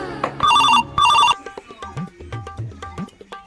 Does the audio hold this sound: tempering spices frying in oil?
no